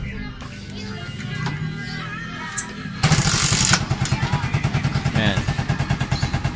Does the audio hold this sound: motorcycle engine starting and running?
yes